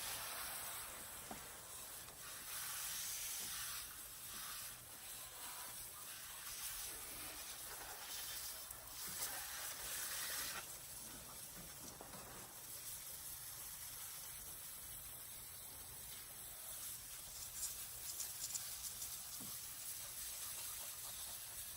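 Pressure washer spraying water at low pressure across a car engine bay, a steady broadband hiss and spray that rises and falls slightly as the stream moves, close and continuous with no talk.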